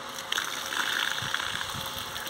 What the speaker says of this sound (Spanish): ya hicimos apertura de la línea de agua